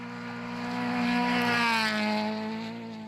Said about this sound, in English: great to hear that high-revving 4-cylinder up against the little 3-cylinder turbo engines